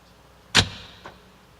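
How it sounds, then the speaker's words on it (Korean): Automatic door lock engaging in a moving car at around 30 km/h, one sharp loud mechanical clack followed by a fainter click a moment later, against quiet cabin hum. "이 소리는 30km 정도 진행을 할 때 안전을 위해서 자동으로 문을 닫아주는 장치가 되겠습니다."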